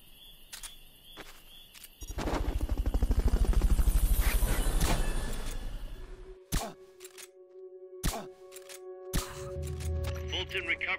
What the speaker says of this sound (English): Captain, recovery subject confirmed onboard helicopter.